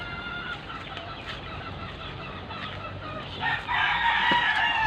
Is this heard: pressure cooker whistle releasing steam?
no